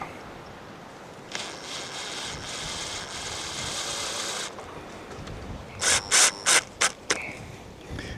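A hand tap cuts a fresh thread with a bit of WD-40 as lubricant, making a steady close grinding, rubbing rasp for a few seconds, followed by several short sharp metallic clicks like a ratchet being worked back and forth.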